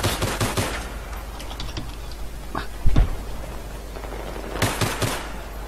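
Quick bursts of rapid video game gunfire crackle at the start, a lone heavier shot lands midway, and another flurry of shots follows near the end, from the iPhone game Battlefield.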